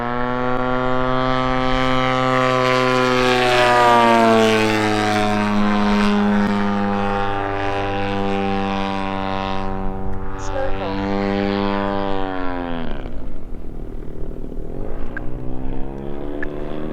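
A 122-inch Seagull Models Super Decathlon RC airplane with a 60-85cc engine roars past in a loud, sustained flyby, its droning propeller pitch sliding downward as it passes and fades away.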